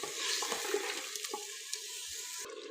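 Meat curry for nihari frying gently over low heat, a soft steady sizzle with occasional spoon scrapes and light clinks, close by with no talking.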